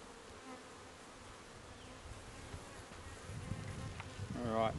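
Honey bees in a top bar hive, a steady close buzzing drone that swells louder toward the end as the comb is lifted near.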